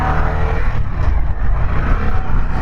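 A 2021 Harley-Davidson Sportster S motorcycle rumbles loudly and continuously while being ridden, its low engine note mixed with wind noise throughout.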